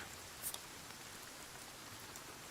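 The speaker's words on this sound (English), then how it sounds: "Oh, it's raining." Steady rainfall in the video game Sons of the Forest, a soft, even hiss of drops landing, with one small brighter splash early on and no voices.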